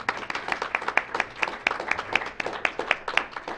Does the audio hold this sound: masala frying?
no